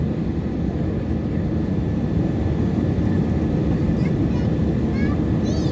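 Steady, loud roar of airliner jet engines during climb on a flight from Kathmandu to Bangalore, a continuous broadband drone heard from inside the cabin with no breaks.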